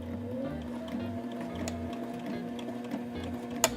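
A sewing machine stitching fabric and locking the stitches, a steady mechanical hum with a rhythmic needle chatter that pauses and restarts, ending in a sharp click, close and fairly quiet.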